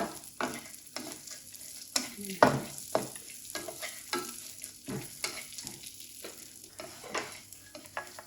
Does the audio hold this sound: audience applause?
no